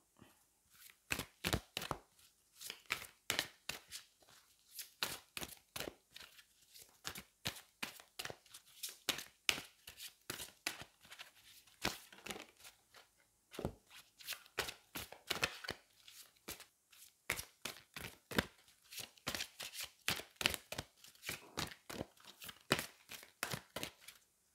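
Angel oracle cards are shuffled by hand close up, making a long run of crisp, quick snapping taps in uneven bursts. A short pause falls midway, and no one speaks.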